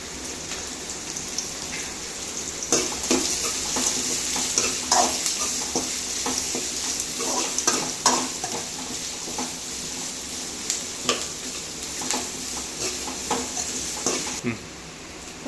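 Onion and ginger fry in a pan for a Salem-style dried fish curry, a steady close sizzle broken by frequent crackles, pops and scraping stirs, with a brief spoken murmur beneath.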